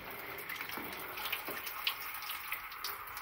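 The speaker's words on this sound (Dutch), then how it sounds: "Hier komt nu water uit." Water runs from a tap in a campsite shower building, a steady, fairly faint hiss and splash that continues without a break.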